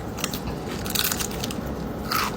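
Crunchy cocoa-flavored marshmallow snack being bitten and chewed up close, a run of loud, crisp crackling crunches with no talking.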